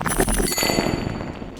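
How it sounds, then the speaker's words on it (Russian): A synthesized metal impact effect of the Mineral type from Tsugi DSP Motion: a ringing clang with clinking debris, bright tones that linger and then fade. "в Mineral мы среди развалин натыкаемся на какой-то металл"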